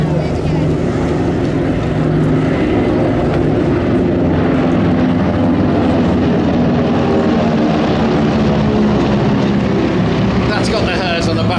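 Douglas DC-3 propeller airliners flying at the Scottish International Airshow, a loud, continuous droning roar of radial engines and propellers throughout, with a voice talking over the engine noise.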